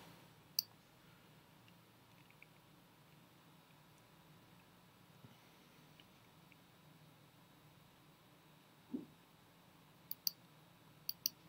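A computer mouse gives a few sparse, faint, sharp clicks against quiet background hiss during iMovie editing, some falling in quick pairs near the end.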